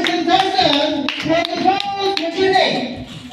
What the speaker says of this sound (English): everybody, clap your hands to our person